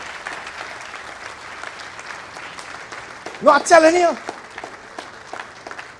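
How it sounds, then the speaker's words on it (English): Event audience applause for the deaf community, a soft continuous clapping bed running throughout while a voice briefly speaks over it partway through. "Round of applause for the deaf community."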